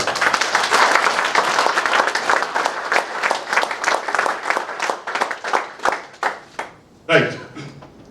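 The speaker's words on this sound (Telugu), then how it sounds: "ఒకసారి సార్కి గ్రాండ్ క్లాప్స్ ఇద్దాం" A seated audience bursts into dense, sustained clapping for a speaker at a Kangen water health-device presentation, the applause thinning into scattered claps after about six seconds before a final louder burst.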